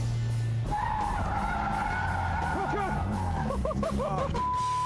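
Drift car with a clutch kick, tires skidding and squealing loudly in a long sustained screech over a roaring engine, with rising and falling squeal tones near the end.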